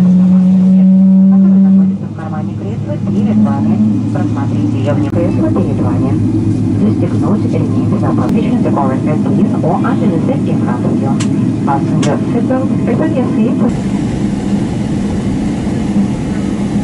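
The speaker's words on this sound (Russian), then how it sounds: "Наш самолет набирает обороты двигателя и мчится по взлетной полосе." Passenger airliner engines building power during the takeoff roll, a loud, steady low rumble heard from inside the cabin, with an announcement voice and crowded chatter over it.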